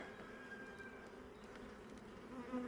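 A dense, continuous buzz of many honeybees swarming around an open hive close by, with individual insects droning past in the steady hum.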